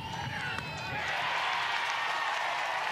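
A capacity crowd at Jane Sanders Stadium in Eugene applauds during an Oregon Ducks versus Weber State NCAA softball game, a steady wash of clapping and cheering that swells after the first second.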